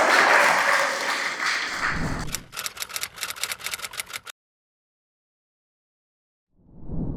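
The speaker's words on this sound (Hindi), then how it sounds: "एक बार तालियां बजा के हम इस बात की यहाँ पे शुरुआत करेंगे।" Audience applause at a basic life support training session held at a government senior secondary school, a burst of clapping that thins into scattered claps before cutting to silence, with a brief low sound returning at the end.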